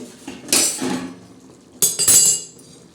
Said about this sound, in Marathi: चला आता आपण हे ढाकण काढून बघू